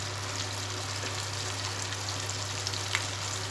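Food sizzling and frying steadily in a pan of oil in a home kitchen, a continuous crackling hiss with occasional sharper pops, close and fairly loud throughout with no talking.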